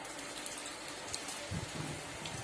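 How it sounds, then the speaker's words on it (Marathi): Garlic dropped into hot oil in a kadhai sizzles with a dense crackling hiss that swells louder about halfway through, close and steady with no talking. "मी आता इथे कढई तापत ठेवलेली, त्याच्यामध्ये तेल घातलेलं आहे. मी आता लसूण घालते त्याच्यामध्ये."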